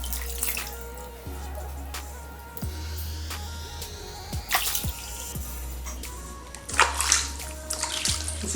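Smoked catfish skin is washed in water to get the sand off, with running water and splashing close by, interrupted by sloshes and drips as the fish is handled.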